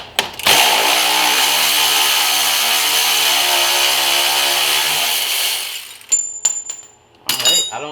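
Impact gun on a front strut bolt of a 2007 Infiniti G35: a loud, steady whirring burst lasting about five seconds, then quick clicks and a short second burst.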